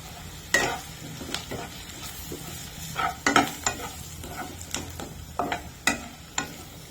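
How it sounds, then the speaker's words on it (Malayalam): Turmeric, coriander and chili powder frying in a pan for crab curry, a low sizzle under repeated sharp scrapes and taps of a spoon stirring against the metal, close and irregular, no talking. "ഇനി ഇതെല്ലാം കൂടി നല്ല പോലെ ഒന്ന് മൊരിച്ചെടുക്കാം"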